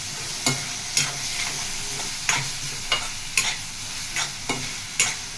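Masala stirred into mutton and cucumber curry frying in a pan, with a steady sizzle and a run of sharp scraping clacks from the stirring utensil at roughly half-second intervals, close by and with no voices.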